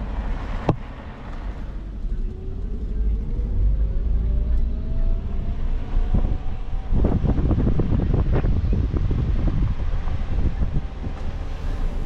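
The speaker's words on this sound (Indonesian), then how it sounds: "Angin." Steady wind blows at an open public beach at Lagoy Bay, Bintan, with a continuous low rumble and gusty noise across the whole stretch, surf-like wash rising in the second half.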